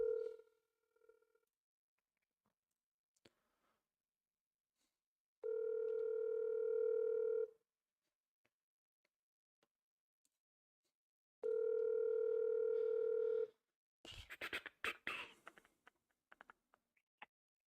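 Two long steady telephone dial tones sound while an outgoing call is placed to a property, separated by quiet gaps and followed by a burst of faint clicks and crackle.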